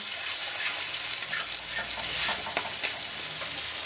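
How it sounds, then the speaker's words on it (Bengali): Onions frying with a spoonful of ginger-garlic paste in a pan, a steady close sizzle with spoon scrapes and stirring clicks throughout, no talk. "পেঁয়াজটা ভাজা হয়ে গেছে, এখন 1 চামচ আদা রসুন বাটা দিয়ে দিলাম, দিয়েও ভালো করে কষিয়ে নেব।"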